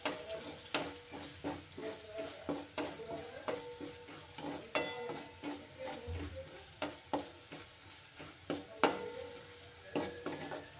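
Curry leaves fry in a pan with a soft sizzle, while a spoon stirs and taps against the metal in a steady rhythm of close, light clinks.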